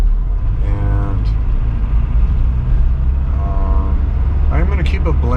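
A Mercedes car running on waste transmission oil rumbles along steadily from inside the cabin, a low continuous engine and road drone beneath someone talking.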